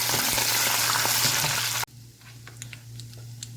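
Dried red chillies and curry leaves frying in hot oil for a tamarind rice mix, a loud dense sizzle that cuts off abruptly partway through, leaving a quieter crackle with faint pops.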